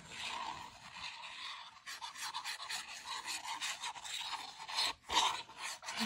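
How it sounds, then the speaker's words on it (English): Brush or spreader rubbing adhesive glue across a paper layer of a flip flap ephemera folder, a close, steady scratchy rasp in repeated strokes with a brief pause near the end. "now we're going to add adhesive to this layer"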